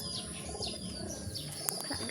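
Pigeons cooing and chirping close by, a steady stream of soft calls over a busy background murmur.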